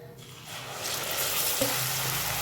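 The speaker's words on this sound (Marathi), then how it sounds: "त्याला थोडंसं फ्राय करून घेते, कांदा शिजून घेते" Onion paste frying in a pan after cardamom and bay leaves, a close steady sizzle that grows louder as the paste hits the hot oil.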